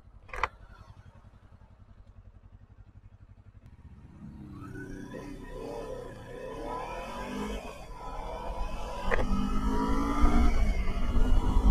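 Modenas Kawasaki Z250 motorcycle engine idling low, then revving up and climbing in pitch from about four seconds, growing louder toward the end, close by with no talk.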